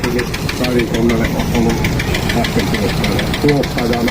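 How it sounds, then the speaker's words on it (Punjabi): An old engine-driven grain threshing machine runs with a steady, knocking mechanical chug, while a person talks over it nearby. "ਇਹ ਦਾਣੇ ਕੱਢਣ ਵਾਲੀ ਮਸ਼ੀਨ ਆ ਇੰਜਨ ਦੇ ਉੱਤੇ ਲੱਗੀ ਹੋਈ ਆ"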